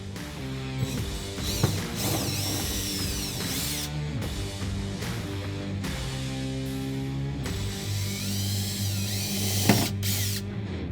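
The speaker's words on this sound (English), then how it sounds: "we're going to take our 1/16 drill bit and we're going to punch some pilot holes in on both sides" A power drill with a 1/16 bit whirs in bursts, speeding up and slowing down as it bores pilot holes into a truck bed rail, with brief pauses and clicks between runs.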